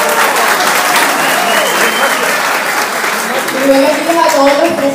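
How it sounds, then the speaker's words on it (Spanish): Loud, full applause from a political rally audience welcoming someone speaker, thick continuous clapping filling the space, with voices rising beneath it toward the end. "Vamos a recibirla con un fuerte aplauso."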